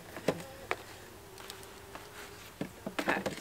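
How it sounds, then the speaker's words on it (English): Bees around an opened nuc hive, with a few faint buzzing passes and scattered knocks and handling noises nearby, no talking. "the bees are going to be all around us"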